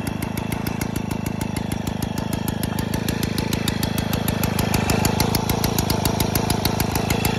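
A Motoconfort N40T moped engine runs steadily at close range, its rapid, evenly spaced firing pulses forming a loud, rattling putter that holds constant throughout with no talking.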